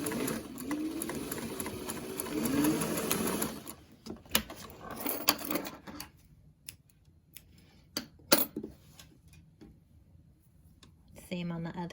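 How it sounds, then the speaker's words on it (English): A sewing machine stitches down the pleats of a fabric face mask, its steady whirring run lasting about four seconds before breaking into short bursts and single clicks, close and fairly loud, with no talking. "We're gonna stitch the pleats down and then arrange the elastic the way you want it at the bottom."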